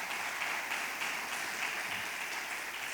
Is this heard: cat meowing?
no